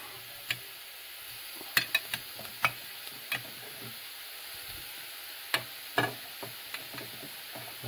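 Roasted, pre-seasoned bones lifted from a roasting tray with tongs and set into a pan, heard as a steady soft sizzle with scattered sharp clicks and clinks of metal against the pan, no talking.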